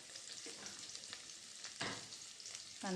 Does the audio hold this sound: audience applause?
no